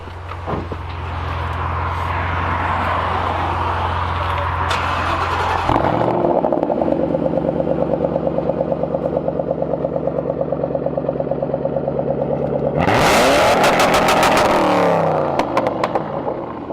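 A BMW E46 M3 engine cranks and fires up with a loud burst, settles into a deep idle, then roars through a sharp high rev before dropping back down.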